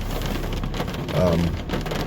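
Steady rain falls on a small pop-up tent at a campsite, a dense continuous patter close by with a brief swell of heavier drumming midway, and no voices.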